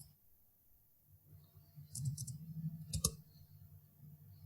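A computer keyboard is tapped quietly in a few quick clicks, with a brief cluster of keystrokes in the middle against a low background hum.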